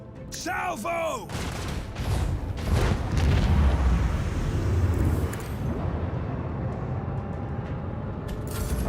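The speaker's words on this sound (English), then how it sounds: "Macro cannons, open fire." Macro cannons open fire in the space combat of the video game Warhammer 40K: Rogue Trader, a loud sustained barrage of booming, rumbling blasts that swells in the middle and then tails off into a lingering low roar.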